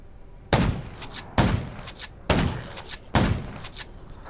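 Four heavy gunshots from the video game Undawn, each a sharp close blast with a decaying tail, spaced under a second apart and loud against a quiet background.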